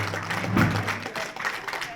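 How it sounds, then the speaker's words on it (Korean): Brief audience applause at a song contest, rising and fading within two seconds as a singer is introduced, with a host's voice mixed in. "박수로서 성원해 주시기 바랍니다."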